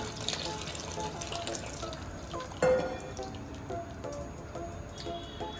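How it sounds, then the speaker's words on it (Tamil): Soaked tamarind water is poured into a pot of tomato rasam, a steady liquid trickle and drip running throughout with a brief louder splash midway, close and fairly quiet. "இப்போ நம்ம அங்க கரைச்சு வச்சிருக்க புளியை அதுல ஊத்திடலாம்"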